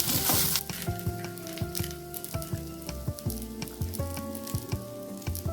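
Thuthuvalai leaves sauté in hot oil for a chutney, giving a steady close sizzle with clinks and stirring scrapes from a utensil against the pan throughout, and no voices.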